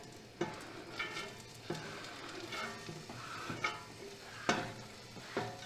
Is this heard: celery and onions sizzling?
yes